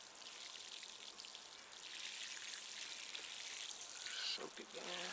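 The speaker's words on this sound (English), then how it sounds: "Just water this in really good to get it started." A raised garden bed is watered with fish fertilizer, producing a steady, soft hiss of pouring and trickling water that runs continuously, with a few louder splashes near the end.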